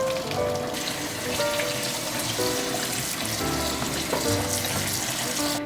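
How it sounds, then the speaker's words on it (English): Cooked rice vermicelli is tipped into a strainer and rinsed under cold running tap water, a loud, continuous splashing and hissing rush of water close by, steady throughout with no voices. "Now we're gonna go ahead and strain the vermicelli and then rinse it with cold water."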